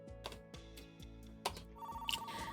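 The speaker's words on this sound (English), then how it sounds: "It was getting dark, and I was about to go to bed when my phone rang." A telephone rings, a repeating electronic ringtone pulsing in a steady rhythm, loud and close, with a brighter chiming tone joining near the end.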